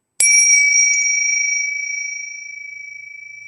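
A single strike of Tibetan bells gives a bright, sharp onset and then a clear, shimmering ring that fades slowly over several seconds in an otherwise quiet room.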